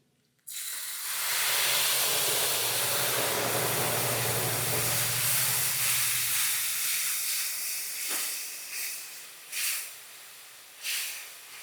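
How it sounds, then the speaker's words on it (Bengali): Whole spices dropped into hot oil for a mustard-poppy fish curry, starting as a sudden loud, steady hiss that slowly fades to softer sizzling with a few short bursts near the end. "এবার আমি তেলের মধ্যে ফোড়নটা দিয়ে দিলাম"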